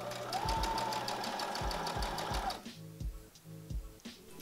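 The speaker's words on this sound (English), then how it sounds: "And now I'm just going to sew around this curve, stopping about half an inch away from either side of the top." Sewing machine stitching a sleeve around a curved bodice armhole, a fast steady motor rattle with rhythmic needle thumps, then slower stop-start stitching toward the end.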